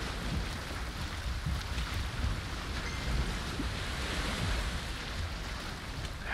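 Sea waves surge and wash around a boat at sea in Valheim, a broad, continuous rushing roar with rolling swells that rises and falls steadily, and no voices.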